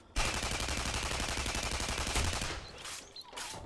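Rapid automatic weapon fire in the Tribes: Ascend game, a dense unbroken burst of shots lasting a few seconds before cutting off into quieter game noise.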